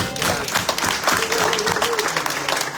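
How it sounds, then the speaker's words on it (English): Audience applause at a live community coffee-and-conversation event at a Pride center, steady clapping from a moderate crowd mixed with a few voices for about three seconds. "A round of applause for that."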